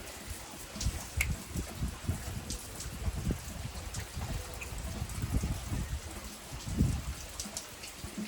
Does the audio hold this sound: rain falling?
yes